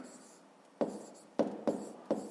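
Handwriting strokes on paper during a fifth-grade maths lesson, a faint scratchy rustle punctuated by four crisp pen taps or marks spaced irregularly, close and alone without talk.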